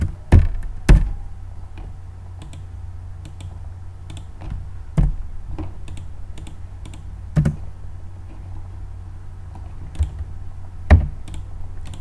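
Someone types C# code on a computer keyboard: sparse, distinct key taps and a few heavier knocks spaced irregularly over a low background hum, with no talking.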